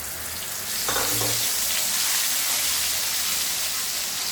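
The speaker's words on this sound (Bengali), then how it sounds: "এবার আমি তেলের মধ্যে আদা বাটা, জিরে বাটা, ধনে বাটা, লঙ্কা বাটা একসঙ্গে পেস্ট করে রেখেছিলাম, দিয়ে দিলাম।" Ground ginger, cumin, coriander and chili paste dropped into hot oil for a fish curry, bursting into a loud, dense hiss that holds steady and close with a brief scrape early on.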